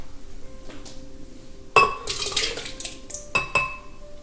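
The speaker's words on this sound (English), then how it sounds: "So I am going to put these berries into my blender." Berries are dropped into a blender jar with sharp clattering clinks against the container, two clustered bursts after a quiet start, close and with no talking.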